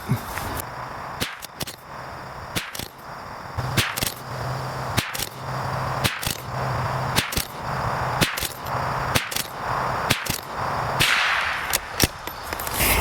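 A .22LR rifle firing a ten-shot group of bulk ammunition: a string of sharp, evenly paced cracks, each short and distinct, spread across several seconds at close range with no talking between them.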